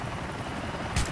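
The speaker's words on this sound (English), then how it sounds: "Let's take the helicopter." A steady, droning helicopter rotor hum in the video game Grand Theft Auto IV with the LCPDFR mod, continuous and close, with a brief louder whoosh near the end.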